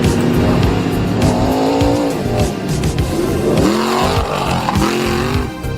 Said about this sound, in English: We run the LS3 motor in it, naturally aspirated.